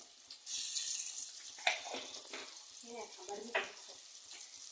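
Ginger paste frying in a pan for a Telangana chicken curry, a steady close hiss of sizzling oil with a few stirring scrapes and clinks running through it.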